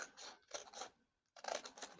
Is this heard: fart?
no